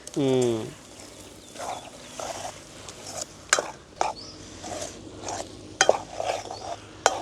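Whole sautéed garlic cloves are added to a pan and stirred, with repeated scraping and clattering strokes of a utensil over a low sizzle. A voice speaks briefly at the start.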